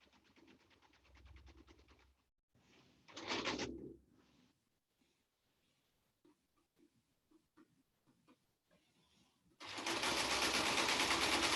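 Sewing machine stitching in the ditch along a shirt sleeve cuff, with a steady rapid whir at the start and a loud sustained run at the end, separated by short bursts and quieter handling noises.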